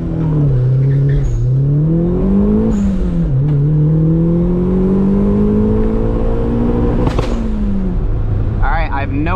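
Turbocharged Mazda Miata pulling hard from a standstill toward 60 mph at 9 psi boost, the engine note climbing through several gear changes, loud and close from inside the car.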